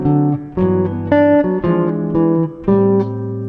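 Clean jazz guitar phrase from a recorded solo, a short run of sustained, warm single notes and octave-like tones moving through the chord changes, played alone and up close.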